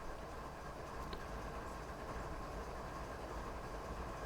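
A train rolls along in Train Simulator on the Marias Pass route, a faint, steady rumble with an even mechanical drone and no voices.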